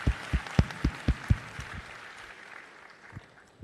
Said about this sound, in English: Can we have a huge round of applause for Honorable Minister Ashwini Ji and Rick?